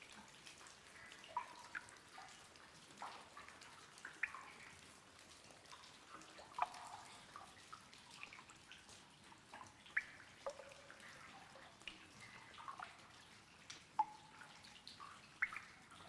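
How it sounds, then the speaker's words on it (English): Water pours and drips into an underground river chamber in Miss Clue, a faint running trickle dotted with irregular clear drips, with no one talking. "This must be an underground river because the water is coming in and it's not filling up in here."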